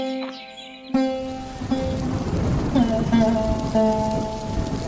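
A rainstorm in a cartoon story brings a steady hiss of rain on surfaces, with a sudden loud crack near the start and a few soft tones and sounds layered over it.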